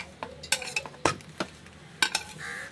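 Boiled potatoes are mashed in a bowl, heard up close as irregular soft thuds, scrapes and light clinks of a utensil against the bowl, with no voices.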